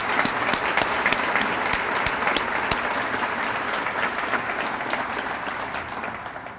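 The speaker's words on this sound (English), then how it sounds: "let's give a huge round of applause to our first responders" An audience at a city's State of the City address applauds its first responders: dense, sustained clapping from a large crowd, loud at first and gradually tapering off toward the end.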